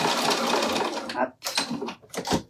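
Home sewing machine stitching fabric, a steady close mechanical whir that breaks into short bursts with brief pauses, a machine that could use some oil.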